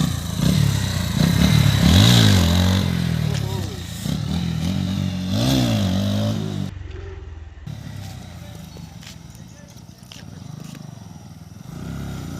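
Motorcycle engine revving hard during an attempted wheelie outdoors, loud rising and falling revs in the first seven seconds, then a lower, rougher engine sound with people talking over it.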